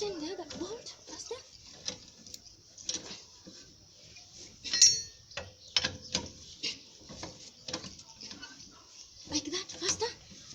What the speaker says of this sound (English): Tighten the other bolt faster.